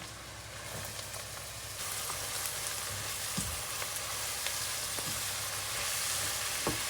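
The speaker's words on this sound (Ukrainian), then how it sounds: "Тепер ми сюди викинемо грибочки і потушкуємо грибочки з цибулькою" Mushrooms and onions stew in oil in a pan, producing a steady, close sizzle and crackle with occasional stirring clicks and scrapes, with no talking.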